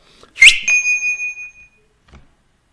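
A short, shrill whistle blast rings out loudly, holding a steady high pitch for about a second before cutting off, followed by quiet.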